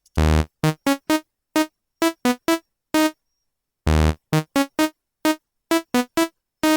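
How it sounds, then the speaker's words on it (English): Quad saw wave preset on the Vital synthesizer plays a staccato melody of short bright buzzy notes, two longer low-heavy chords opening each phrase, with gaps of silence between; loud and alone. "change your waveform into quad saw"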